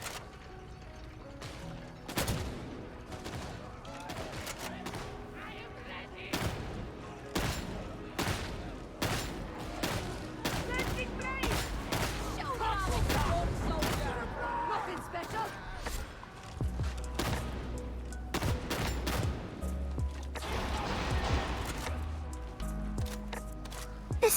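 Rapid gunfire from a sniper and other weapons in a game battle, sharp cracks scattered irregularly throughout, some close and loud, under ongoing talk.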